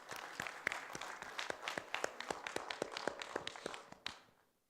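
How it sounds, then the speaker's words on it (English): A conference audience applauds for Professor Abdul Raab, rapid claps overlapping at moderate distance for several seconds before tapering off. "I would like you to join me applauding Professor Abdul Raab"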